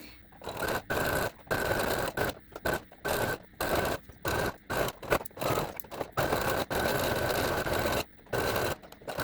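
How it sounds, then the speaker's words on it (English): A sewing machine stitches a strap onto a pleated cloth mask, running in many short, choppy bursts with brief pauses between, close and loud. "all you have to do is sew your other strap onto this side of your mask"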